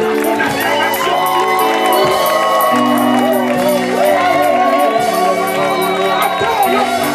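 A church congregation shouts and cheers in acclamation, a dense continuous roar of voices and whoops with music underneath throughout.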